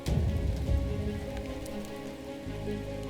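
Heavy monsoon rain patters steadily on surfaces in Kanha forest, a dense continuous hiss with scattered nearer drops, and a low hum underneath in the later part, with no talking.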